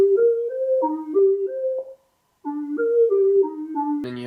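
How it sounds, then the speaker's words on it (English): A plucky Serum synth plays the lower line of a melody from a song, a bouncing stepwise sequence of clean notes, pausing briefly before repeating, ending on a short bright hit; loud and alone. "You have this bass part of the melody and it sounds something like this."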